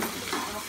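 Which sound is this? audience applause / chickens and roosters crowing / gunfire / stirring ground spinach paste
stirring ground spinach paste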